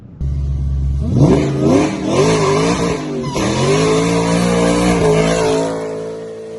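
A Ford Mustang does a burnout, its engine roaring up through repeated high revs alongside screeching tire squeal, loud and close before easing off at the end.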